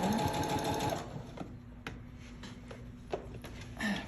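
A sewing machine fitted with a rolled hem foot stitches a hem, a fast steady mechanical whir for about a second, then stops and gives way to quieter handling clicks before a short final burst of stitching.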